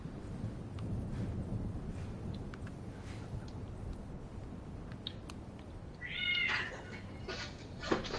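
A cat meows once, shrill and fairly distant, over a steady low rumble of background noise, with faint scattered clicks and no speech.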